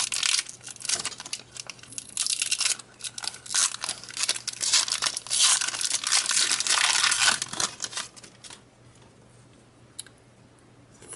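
Foil Pokemon Aquapolis booster packs crinkling and tearing open, dense close crackling bursts for about eight seconds before fading to quieter rustles, no voices.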